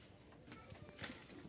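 Caged pigeons coo softly in a loft of many birds, the low calls repeating over a steady background while a voice talks nearby.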